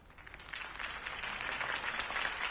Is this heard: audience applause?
yes